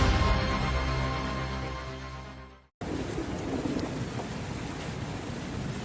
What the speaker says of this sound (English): Rain in Baltimore never cleans anything. It just stirs the filth.